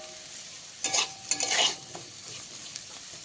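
Potatoes fry in a pan with a steady sizzle, broken by a few louder scrapes and stirs of a utensil in the middle, with no talking.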